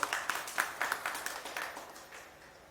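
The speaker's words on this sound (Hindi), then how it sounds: "ताली बजाओ" An audience at a religious gathering claps in a short, scattered burst of hand claps. The claps are fairly close, start fast and then thin out and fade over a couple of seconds.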